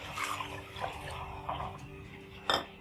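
Water splashing and running into a pan of fried onion-spice masala for a dhaba-style moong dal pakoda curry, faint and intermittent, with a brief clatter of cookware near the end.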